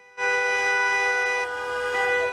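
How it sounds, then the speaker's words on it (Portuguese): Car horns from passing drivers sound near the Praça dos Três Poderes during a political protest, with one long, loud, sustained tonal blast that holds steady for about two seconds. "Motoristas que passavam pela Praça dos Três Poderes buzinavam."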